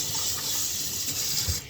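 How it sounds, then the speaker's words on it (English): Tap water runs steadily from a faucet, a continuous broadband hiss while someone rinses dirty hands during cooking, close and unbroken with no talking. "Y'all going to keep hearing this water because my hands are"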